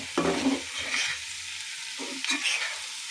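Vegetable bhaji frying in a pan, a soft steady sizzle with a few stirring scrapes of a spoon against the pan, close by and without talk.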